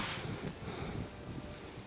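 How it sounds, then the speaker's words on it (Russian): Strong wind buffets a microphone outdoors at a metal-detecting search site, a constant low rumbling roar with heavy gusts at the start, no voices. "Не знаю, как меня слышно, потому что такой ветер, что просто капец."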